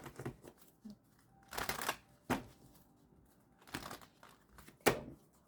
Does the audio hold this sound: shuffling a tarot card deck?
yes